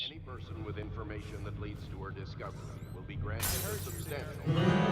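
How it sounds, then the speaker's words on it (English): Glass shatters loudly in the stealth video game Dishonored, a sharp bright burst near the end that rises over a steady game hum while a voice reads a public announcement throughout. "With the sound of breaking glass"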